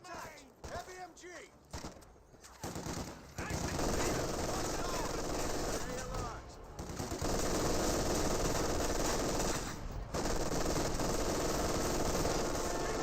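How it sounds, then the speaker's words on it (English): Heavy machine gun fire in the Company of Heroes 2 strategy game, sustained rapid bursts over loud battle noise, with someone commentating over the action. "Enemy contact! Heavy MG!"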